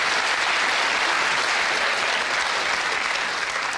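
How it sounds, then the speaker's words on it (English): A comedy-show audience applauds for a birthday, a dense, steady wash of clapping that stays loud and even for several seconds with no voices over it. "Let's give him a round of applause."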